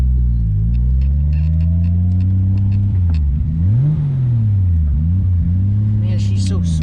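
A Nissan R32 GT-R engine revs and pulls hard under acceleration on a road drive, its loud, close rumble rising and dipping through gear changes, with faint clicks and wind noise above.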